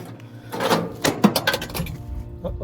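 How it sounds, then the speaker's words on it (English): The door of an old, rusty truck on the North Canol Road is pushed shut, giving a series of clanking, rattling metal knocks that are sharpest in the middle, then quieter scraping. "See if I can close the door."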